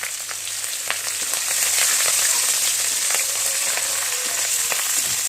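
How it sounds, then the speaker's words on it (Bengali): Curry leaves sizzle in hot oil with garlic, a continuous crackling fry noise with small pops, steady and close with no voices. "এবার আমি এটাতে একটু কারি পাতা দিয়ে দিচ্ছি"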